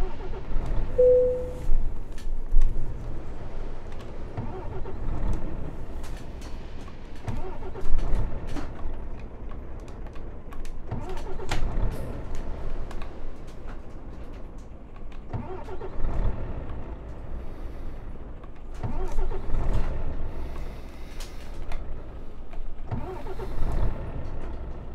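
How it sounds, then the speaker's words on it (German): A truck in Euro Truck Simulator 2, a video game, makes several attempts to start, with repeated cranking and engine bursts that rise and fall without settling into a steady idle, alongside clicks and electronic hum. "ich krieg den Motor gar nicht an"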